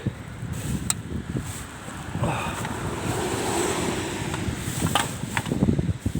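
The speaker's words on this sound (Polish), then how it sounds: "duży wiatr, spory wiatr i nie sprzyja to temu" Strong wind buffets the microphone in continuous gusty rumbles, with a steady roar throughout and brief higher whooshes.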